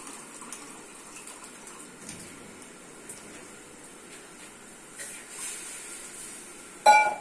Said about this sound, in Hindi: इतना पानी डालेंगे कि बाद में हमें मैगी भी डालनी है उसमें।